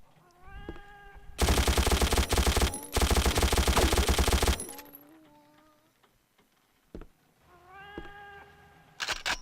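Harmonic cat meows in the video game Mortyr at the start and end, separated by a burst of loud, rapid gunfire with a brief gap in the middle.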